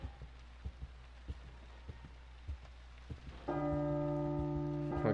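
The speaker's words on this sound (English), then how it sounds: "The bell always makes me jump just a touch." A bell rings out in sustained, overlapping tones partway through, following a stretch of soft, scattered raindrop-like taps; no one speaks.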